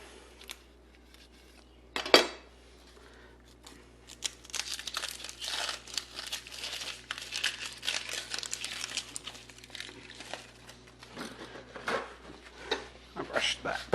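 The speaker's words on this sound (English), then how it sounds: "I'm just really just chopping that up" A knife rough-chops vegetables on a cutting board while chicken stock is being prepared, producing faint, irregular taps and crinkly scraping close by, with one sharper clatter early on.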